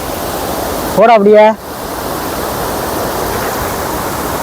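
Steady broadband roar of the Siruvani waterfall and fast-flowing cold water, filling the whole stretch evenly, with a brief spoken phrase near the start cutting across it.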